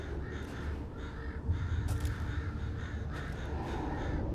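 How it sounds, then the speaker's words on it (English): Crows caw in the Resident Evil Village video game, several harsh calls heard in bursts over a low ambient rumble, with no talk. "Can I shoot the crows?"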